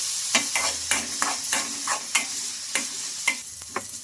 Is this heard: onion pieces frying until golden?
yes